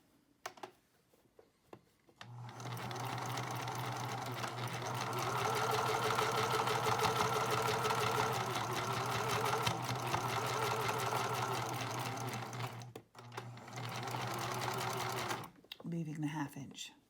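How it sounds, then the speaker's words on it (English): Electric sewing machine stitching the sides of a fabric face mask together inside out, a steady close whirring run of about ten seconds with a short pause before a final burst. "we will stitch the sides of the mask together"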